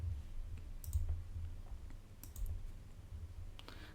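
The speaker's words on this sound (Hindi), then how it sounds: "तो आप यहाँ सिंपल टाइप करो ऑल चार्ट पैटर्न्स" Bursts of key clicks on a computer keyboard as a search is typed, light and close with short pauses between groups of keystrokes, no voices.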